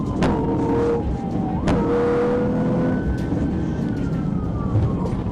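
A suspect's Chevrolet Malibu speeds during a police pursuit, engine roaring loudly and continuously with rising and falling revs, while a faint siren wails in the background.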